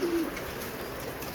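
Breeder pigeons cooing in a loft, a short low coo near the start over a steady background hum, with no talking.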